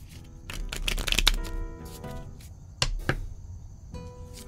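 Playing cards are handled and shuffled at close range in an audio drama card game, with crisp riffling flutters and sharp snaps in quick clusters over a low room hum, without talk.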